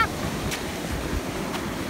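Ocean waves wash gently onto a stone beach on the Cleveland Way coast in England, a soft continuous surf hiss with faint wind and no speech.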